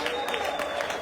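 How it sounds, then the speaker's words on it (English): Applause from an audience for Mr. Vijay Ji after a presentation on relationships at a Modicare event, a dense wash of clapping with a voice faintly present underneath, steady throughout the short burst. "give a big round of applause to Mr. Vijay Ji for a wonderful presentation"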